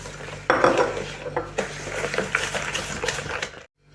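Utensil scraping and clinking against a bowl as eggs, sugar and salt are stirred, a steady busy rhythm for several seconds, then it stops.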